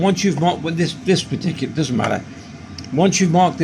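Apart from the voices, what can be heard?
No distinct noise like a dog, phone or traffic.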